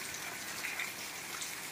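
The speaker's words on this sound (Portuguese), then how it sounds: "muita chuva" Heavy rain pours down in rural Sento Sé, Brejo de Fora, in Brazil's northeastern Sertão, making a soft, even hiss of drops without a break.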